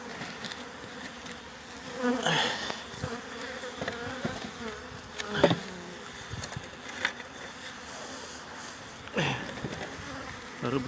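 Starving honeybees swarm and buzz around their hive, a dense steady drone with individual bees flying close past in louder passes, with no talk.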